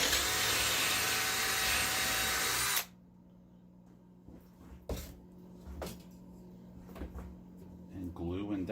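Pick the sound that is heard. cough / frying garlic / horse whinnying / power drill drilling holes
power drill drilling holes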